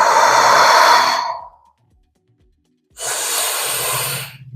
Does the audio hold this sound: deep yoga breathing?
yes